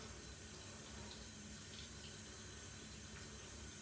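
Water runs steadily from a tap while conditioner is rinsed out of curly hair, a constant close hiss with no talk over it.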